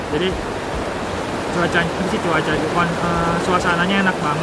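River flowing beside a riverside cafe in Bogor, a steady broadband rush of moving water running throughout beneath a person talking.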